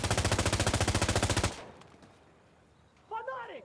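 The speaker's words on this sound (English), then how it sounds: "I think they're on that machine gun." Machine gun fire in the video game Insurgency Sandstorm: a loud, rapid burst of evenly spaced shots for about a second and a half, then a quiet tail and a short sharp sound near the end.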